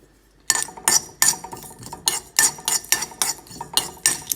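Fennel, cumin, cinnamon and cloves dry roasting in a pan with no oil, stirred in quick, close, repeated scrapes and metallic clinks that keep a steady rhythm for several seconds, with no voices.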